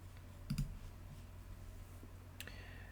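A computer mouse gives a quick double click near the start, then a single sharper click later, close and crisp over faint room noise.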